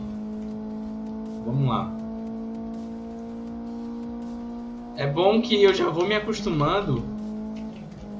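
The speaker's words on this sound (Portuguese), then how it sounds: "esse Cooper ele é mais rápido, mais fácil de dirigir" A Cooper race car in the GT Racing 2 video game holds a steady, droning engine note throughout, while someone talks over it twice.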